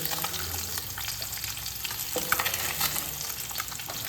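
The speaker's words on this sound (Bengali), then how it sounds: "আর এই সর্ষের তেল দিয়ে মাছটা ভাজলে তরকারির স্বাদটা অপূর্ব হয়" Pieces of katla fish sizzling in mustard oil in a pan, a constant close frying hiss with scattered spits and small pops, steady in level with no speech over it.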